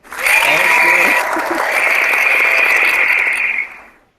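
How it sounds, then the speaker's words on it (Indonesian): A crowd claps steadily for about three seconds, a dense, loud patter that swells quickly and then tapers off at the end. "Gue tepuk tangan dulu dong."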